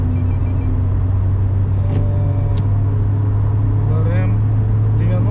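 A Daewoo Lanos car cruising steadily at 70 km/h with its engine turning around 2500 rpm, giving a constant loud low drone inside the cabin with a few faint clicks and some talk over it.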